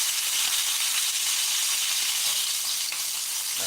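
Steak searing in a Wagner cast iron combo skillet, a steady, dense close sizzle and hiss of frying fat that holds at an even level throughout, with no voices.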